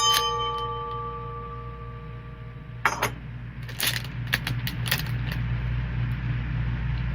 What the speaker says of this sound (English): So is that the wishing bell or?